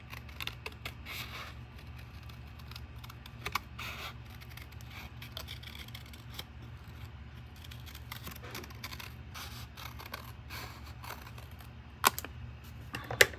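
Paper is cut with a cutter for a DIY gift box, a run of faint close snips and scratchy scrapes, sparse at first and sharper near the end.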